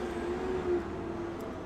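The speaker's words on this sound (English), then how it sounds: "I think that was a garbage truck that just went by." A garbage truck rumbles past outside, a steady low engine drone with a faint rising whine, heard at a distance through the room for a couple of seconds.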